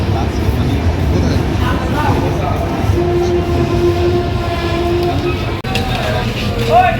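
Padma Express, an intercity train on the Rajshahi–Dhaka route, rumbling steadily with continuous rail noise and a brief horn-like tone, heard from inside the carriage with voices talking over it.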